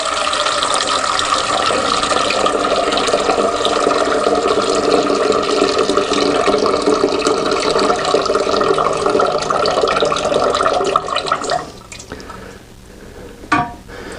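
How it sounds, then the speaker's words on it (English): Water rushes steadily out of a toilet tank during a fill valve repair, a loud continuous gush that cuts off near the end, leaving a few faint drips and a click. "and you see the rest of that water run out."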